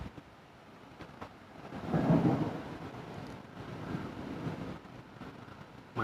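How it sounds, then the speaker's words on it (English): Thunder from a thunderstorm over the St. Lawrence River at Ogdensburg, New York, a low distant rumble swelling and fading over several seconds amid wind and rain noise. "Thunder and lightning storm on the St. Lawrence River in Ogdensburg,"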